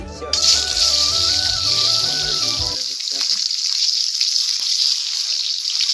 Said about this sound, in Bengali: এখন ডিমগুলো ভেজে নিব